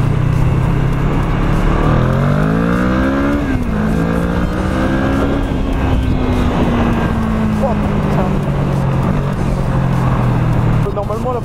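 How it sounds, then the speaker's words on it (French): A motorcycle engine accelerates loudly and continuously, its pitch climbing through several gear rises with brief drops between shifts, heard up close for the whole stretch. "On va faire une petite accélération là."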